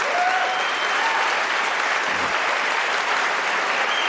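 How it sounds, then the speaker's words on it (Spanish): Church congregation applauding during a Spanish-language sermon, a steady wash of many hands clapping that fills the whole stretch at even loudness with no voices over it. "si quieres aplaudir, no estás seco como un higo,"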